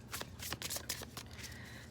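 A deck of tarot cards is shuffled close by in a quiet room, giving quick papery riffles and soft slaps in uneven bursts, with no one talking.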